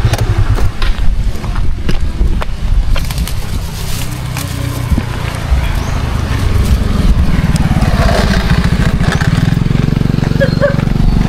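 A motorcycle engine drones steadily throughout, close by, with wind buffeting the microphone and a voice talking over the engine noise.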